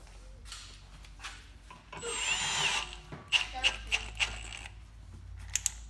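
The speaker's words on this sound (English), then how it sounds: "taking a 9/16 drill bit and just kind of drilling it out and then reaming it around." A power drill with a 9/16 bit whirs in a single burst of about a second while drilling out a tie rod hole. Light metallic clicks and a voice follow.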